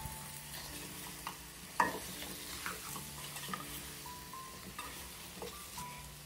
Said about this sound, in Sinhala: අන්තිමට රෝස්ටඩ් කරි පවුඩර් ටිකත් එකතු කරගෙන කලවම් කරගමු.